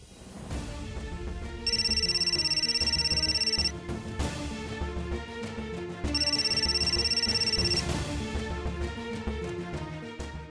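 A telephone rings while a call is placed to someone. Two long, loud bursts of electronic ringing sit over a steady musical background, with a pause between them.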